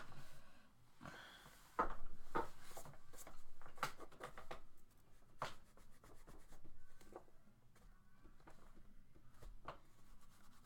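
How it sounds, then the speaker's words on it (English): Pencil strokes scratch and rub across sketchbook paper in short, irregular bursts and longer scribbles, quiet and close, with brief pauses between marks. "This is basically how I go about doing sketches."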